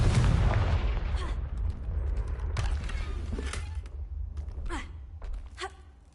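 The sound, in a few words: Confringo spell blast in the Hogwarts Legacy video game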